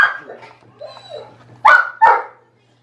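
Dog on a goat-milking outing gives two loud, close barks after some softer whines and yips, with brief human voices in the background.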